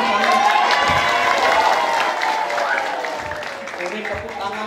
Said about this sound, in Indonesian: Tepuk tangan di dari Sarang Sami